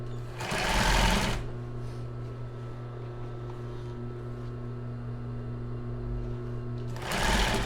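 A sewing machine stitches a crossed-base bra in steady, close runs, with a louder burst at the start and again at the end and a softer hum in between.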